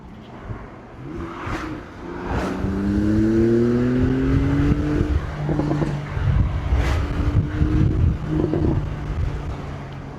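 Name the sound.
sports car exhaust pops and bangs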